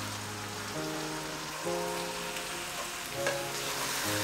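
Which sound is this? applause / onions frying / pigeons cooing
onions frying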